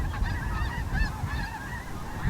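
Many geese honk continuously in a dense, overlapping chorus, a steady clamor of calls filling the air from a flock passing overhead.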